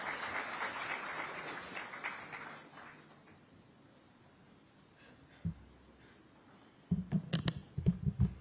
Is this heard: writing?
no